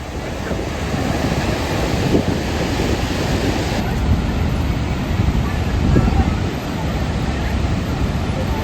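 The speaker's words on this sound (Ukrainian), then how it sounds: "стільки багато води, вона така швидка" Loud, continuous rushing water of Niagara Falls roars steadily with wind buffeting the microphone, a broad unbroken torrent close by.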